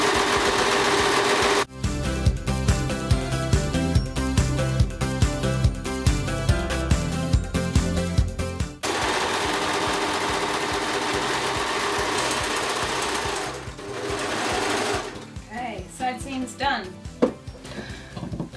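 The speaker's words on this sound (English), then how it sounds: "wonder what my neighbours think of my noisy overlocker." A noisy overlocker serges a knit cardigan in a close, loud, rapid chattering burst, stops, then runs again in shorter spurts with handling noise between.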